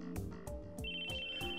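Mobile phone ringtone in the visual novel game Chaos;Child, a repeating electronic melody with a sustained high tone, ringing in clear bursts over a steady background music bed.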